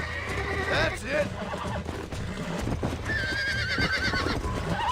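Horse in Red Dead Redemption neighing in a couple of shrill whinnies while hooves clip-clop beneath, with game music or voices faintly mixed in.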